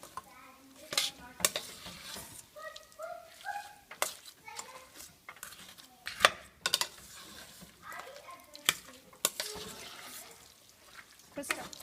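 Cooked lentils, sugar and crushed cardamom being stirred in a pan for a sweet snack, with irregular scraping and clinking knocks under intermittent voices, including a child's.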